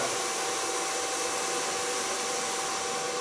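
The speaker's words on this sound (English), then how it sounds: "Start drying our hair." A handheld hair dryer blows on short hair with a steady, close, unbroken whoosh of air that holds an even level throughout, with no voices.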